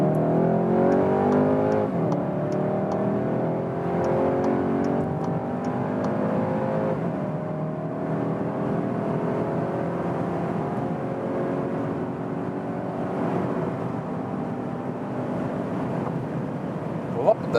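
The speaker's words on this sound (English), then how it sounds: "we'll just accelerate it all out here on the German motorway" A 2021 Skoda Octavia RS engine pulls hard and steadily on a German autobahn to 200 km/h, pitch climbing through gears with rising harmonics, wind and road roar constant underneath throughout.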